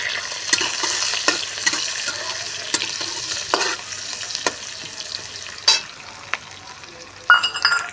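Garlic, ginger and green chili fry in a pan for an aloo bhindi sabzi, a steady hiss broken by repeated scraping stir strokes and a couple of sharp clinks of the utensil, close and moderately loud.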